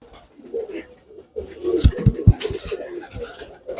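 A young racing pigeon coos close by in soft, low repeated notes, with a brief burst of louder cooing in the middle over light background noise.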